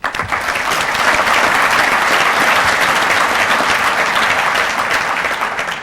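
Sustained applause from a large crowd at a Shrine Game event, a dense even clapping that holds steady at full volume for several seconds before it starts to fade.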